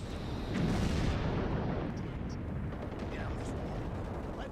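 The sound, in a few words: anti-aircraft guns firing in video game Rogue Trooper Redux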